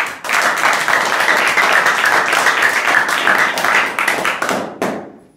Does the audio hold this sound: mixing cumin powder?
no